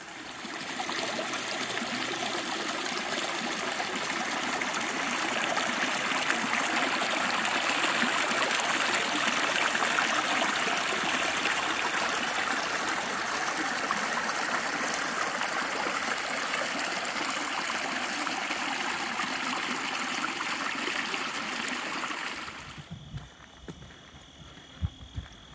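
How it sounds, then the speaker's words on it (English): A small creek of tea-brown, tannin-stained water flows steadily through a nature preserve in Monroe County, a close, continuous babbling trickle that carries on alone before cutting out near the end. "Beautiful little creek."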